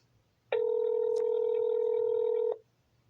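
A steady telephone line tone rings out for about two seconds on a call to Texas Health and Human Services, loud and clean against faint background hiss, then cuts off abruptly.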